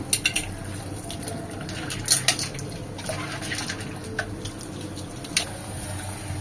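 Tamarind is squeezed and dissolved by hand in water for beetroot rasam, giving soft wet sloshing nearby, broken by scattered clinks of a vessel and small drips.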